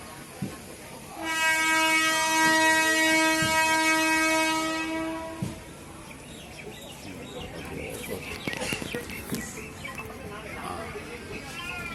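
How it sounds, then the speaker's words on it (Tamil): A train horn blares steadily for about four seconds, then rattling rail noise and muffled voices continue as the Chennai to Chengalpattu to Aranthangi train moves on. "ட்ரெயின் சென்று கொண்டிருக்கிறது"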